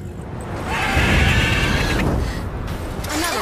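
A mare neighs in the video game Witcher 3, one drawn-out whinny rising over steady background game noise and fading after about a second.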